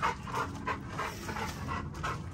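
A dog named Zeus panting in quick rhythmic breaths, close and steady for a couple of seconds.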